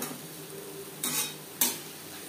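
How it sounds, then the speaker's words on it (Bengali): Fish fat is stirred with onion and tomato in a pan, a soft sizzle broken by two short, sharp spatula scrapes close by. "পেঁয়াজ টমেটোর সাথে মাছের তেল বেশ ভালো করে মিক্সড করে দেব।"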